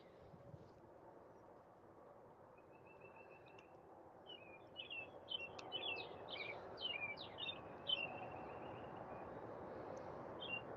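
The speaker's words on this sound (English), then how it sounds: "Let me know if the birds get to be too much" Several birds chirp and tweet outdoors over a low steady background hum, the calls growing busier and repeating in quick bursts.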